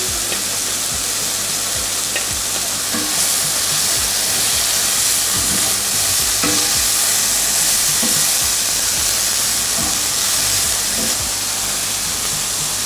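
Scallion whites and garlic sizzle steadily in a pan over a medium stove, a continuous bright frying hiss with occasional soft stirring scrapes, close and fairly loud with no talking.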